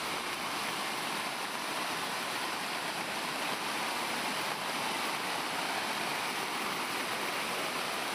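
Bhadra river floodwater in Chikkamagaluru pours into flooded farmland and plantations, a steady, dense roar of rushing water that holds at the same level throughout with no voices.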